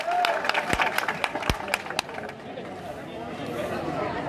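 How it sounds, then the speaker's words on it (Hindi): A crowd applauds a guest at a community gathering on a stage with dignitaries, with scattered sharp claps over a murmur of voices and speech, the clapping loose and uneven rather than a full ovation. "थोड़ा जोर से ताली मारिए"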